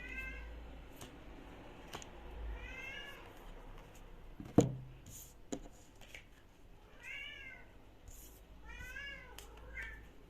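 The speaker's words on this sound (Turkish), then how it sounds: "kedim çok ses yapıyor" A cat meows repeatedly, several drawn-out wavering cries spaced a couple of seconds apart, close by, with a few knocks and thumps in a quiet room.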